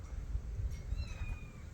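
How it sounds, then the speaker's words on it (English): A young feral kitten meows outdoors near a house, thin high cries drawn out over steady low wind and traffic rumble, fairly faint and distant. "Oh my god, I hear a baby cat."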